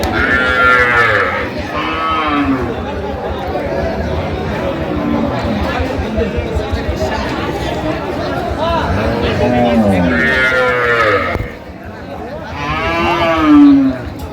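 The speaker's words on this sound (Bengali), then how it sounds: "গাভী বাছুর আমরা দেখছিলাম এখানে।" Cows and calves at a rural cattle market in Bangladesh low and bellow in several drawn-out moos, some loud and near, over a constant background of crowd chatter and talking.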